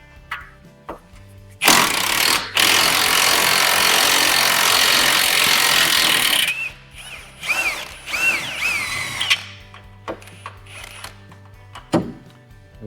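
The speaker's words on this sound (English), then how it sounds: "This is where a really good impact comes in handy. All right, let's go ahead and get this last bolt." Impact wrench removing a suspension bolt on a Honda Pilot or Acura MDX, a loud sustained buzzing burst of several seconds followed by shorter stuttering bursts and clinks of metal.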